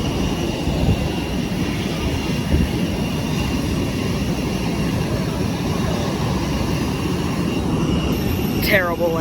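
A Wizz Air passenger airplane landing near Split, Croatia, heard from inside the cabin as a steady, loud roar of engine and airflow noise throughout, with a brief rising whine near the end and a voice under the din.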